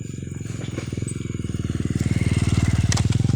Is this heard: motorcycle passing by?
yes